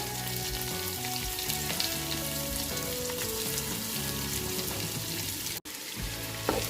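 Four medium onions are added to hot oil in a pan for fish biryani and sauté with a dense, continuous sizzle, interrupted by a brief dropout before the frying hiss resumes.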